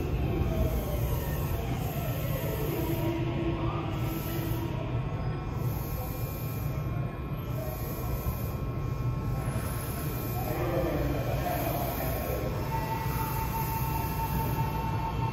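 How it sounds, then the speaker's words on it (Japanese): A JR Central 313 series 8500-subseries train on the Chuo Main Line departs Kanayama station, a steady loud rumble and motor whine filling the platform throughout, with a high tone and faint announcements in the background. "1番線から列車が発車します。"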